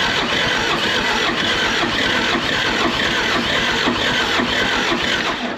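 A military John Deere 450G dozer engine cranks and churns continuously without catching, a steady dense mechanical drone that stays close and even throughout.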